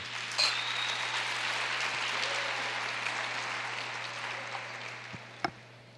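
A church congregation claps steadily for several seconds, a dense wash of applause that fades slightly toward the end, with a couple of sharp knocks near the close.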